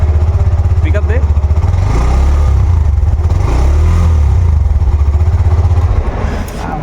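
Hero Xtreme 125R motorcycle, a 125cc engine, revving hard in a loud rhythmic throbbing drone that rises and falls with throttle pickups, while someone speaks over it.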